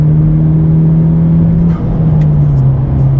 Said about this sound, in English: So here's what I did. I'm gonna give it some full throttle, boy.